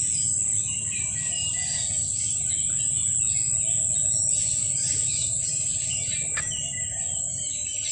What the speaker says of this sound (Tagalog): Daming ibon.